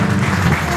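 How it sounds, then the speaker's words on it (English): A church congregation claps together after a prayer, a dense, steady wash of many hands filling the whole moment at close, loud range. "Why don't we give Jesus a clap of hands"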